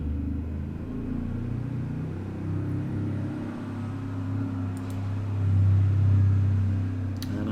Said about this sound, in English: I'm sorry about this big truck going past